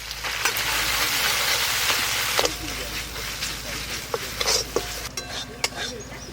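Small fish curry with mustard paste, green chillies, dried chilli paste and turmeric sizzling in a pan as it is stirred, a steady frying hiss that fades partway, with scraping clicks and a voice talking over it.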